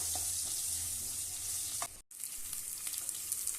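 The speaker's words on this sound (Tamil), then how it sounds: "இப்போ நம்மளுடைய வெங்காயம் வந்து நல்லா ஃப்ரை ஆகிட்டு இருக்கு" Onions frying in oil in a pan while making ennai kathirikai kuzhambu, a Tamil eggplant curry. A steady, close sizzle runs throughout, with one brief dip near the middle before the crackle resumes.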